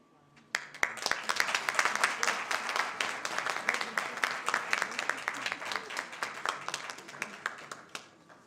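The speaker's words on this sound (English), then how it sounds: "Let's give him another warm round of applause for a job really well done." An audience at an International Migrants Day event breaks into applause, a dense burst of many hands clapping that swells quickly, holds steady for several seconds, then thins out near the end.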